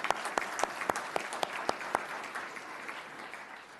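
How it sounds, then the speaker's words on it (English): Audience applause at the Loudon County, Virginia State of the County Address after a Rockridge performance: crisp, regular near claps over a broader crowd clapping that softens toward the end. "Give it a round of applause for one more time for Rockridge."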